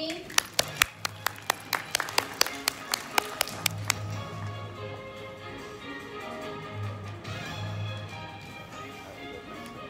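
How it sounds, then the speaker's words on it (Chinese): Applause from an audience at a technology forum on future vehicles, opening with a run of crisp, evenly spaced claps over about four seconds, then fading into hall murmur and a low background hum. "掌声欢迎。"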